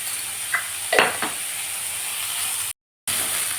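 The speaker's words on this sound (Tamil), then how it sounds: "இந்த முட்டைக்கோஸ் வதங்கிடுச்சு. இதுலேயே இந்த கேரட்டும் சேர்த்துக்குருவோம்." Shredded cabbage, carrot and beetroot sautéing in a pan with salt, a steady close sizzle with a few scraping stirs near the start and a brief dropout, no voices.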